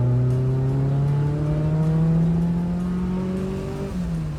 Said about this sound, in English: This is my 1995 240SX S14, equipped with an eBay turbo kit